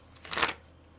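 A deck of playing cards is shuffled once in a quick, fairly soft riffle burst of about a third of a second, standing alone against a quiet background.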